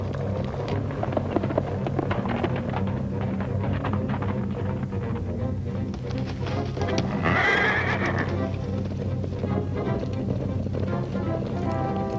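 A horse whinnies loudly over a steady bed of hoofbeats and rumbling movement, with a sharp, bright neigh standing out midway.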